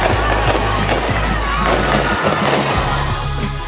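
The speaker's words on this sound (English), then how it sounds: "the fireworks fly here in Stockton" Fireworks burst at a celebration of a women's water polo national championship in Stockton, a loud run of rapid crackling pops and bangs layered over a low rumble, close and dense.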